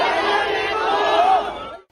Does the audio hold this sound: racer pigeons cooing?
no